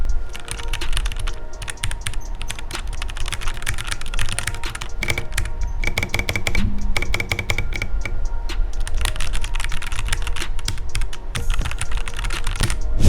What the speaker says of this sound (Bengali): চলুন আমরা এখন এই কিবোর্ডটার টাইপিং সাউন্ড শুনে আসি